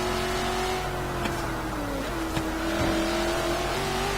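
An HSV GTSR race car in Forza Horizon 3 accelerates hard, its engine roaring steadily loud and close with rising and shifting pitch throughout, no voices.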